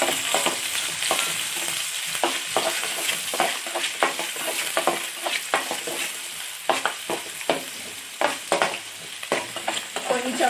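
Chopped onions and potatoes frying in a pan, a loud continuous sizzle broken by frequent sharp scraping strokes of a spatula stirring, close up and with no talking.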